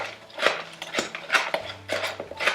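Butter being mixed into stuffing with a utensil, soft repeated scraping and clinking strokes in a steady rhythm, close but fairly quiet.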